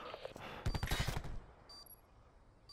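A short burst of rapid gunfire in a shooter video game, several quick loud shots packed together, then a few faint electronic tones afterward.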